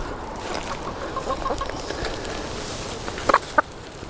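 Chickens cluck softly nearby amid quiet outdoor background, with a couple of sharper clucks near the end.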